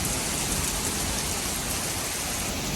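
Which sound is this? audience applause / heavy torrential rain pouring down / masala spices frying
heavy torrential rain pouring down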